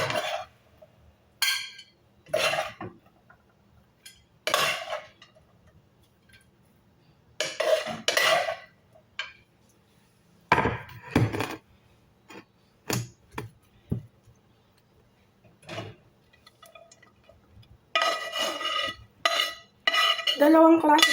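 Shawarma chicken is stirred in a pan with metal utensils, giving intermittent clinks and scrapes in short bursts separated by quiet pauses.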